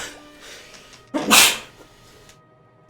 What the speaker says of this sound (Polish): Dobra, kichnięte zostało.